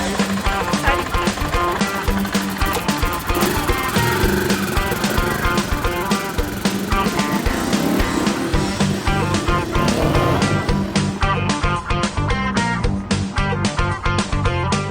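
A KTM 500 EXC-FS dirt bike engine revs hard and continuously as the bike rides off, a loud buzzing roar with rapid throttle blips that stays strong throughout.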